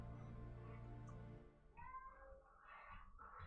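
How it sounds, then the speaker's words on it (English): A cat meows several times in short, rising calls from nearby, following a steady low hum, with no speech. "Don't you meow at me"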